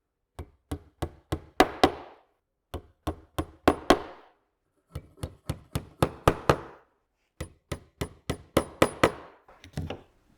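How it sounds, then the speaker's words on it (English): Small frame nails are hammered into a wooden national beehive super in four quick bursts of sharp, ringing taps, each run speeding up and growing louder until the nail is driven home, heard up close. "use your 8 frame nails to hammer them in place"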